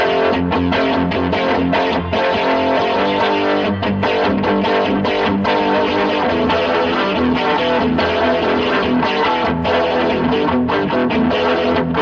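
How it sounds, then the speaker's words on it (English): A light carbon-neck electric guitar with hidden built-in electronics plays heavily distorted chords and riffs, loud, thick and sustained for twelve seconds, with short breaks between strummed phrases and no talking. "the guitar's doing all the distortion"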